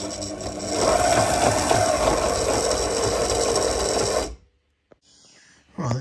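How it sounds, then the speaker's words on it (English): A sewing machine runs a long, continuous mechanical chatter while stitching a clear vinyl cockpit enclosure on a catamaran, stopping abruptly, then a couple of short clicks and a brief restart. "Outside curve is stuck down, so we'll sew around that and then do our best on the inside."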